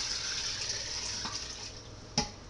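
Water poured into a pot of Hungarian cauliflower soup on the stove at medium heat, a steady broad pouring wash throughout with a brief splash near the end, close and moderately quiet.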